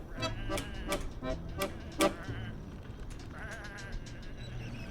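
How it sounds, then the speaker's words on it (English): Sheep in the video game Whateverland bleat in a quick series of overlapping calls, several wavering cries close by at first, then thinning into softer, more distant bleats with no talking. "Come on, these are just sheep."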